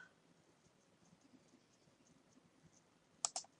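Two quick computer mouse clicks near the end, close and crisp, following a quiet stretch of faint room noise.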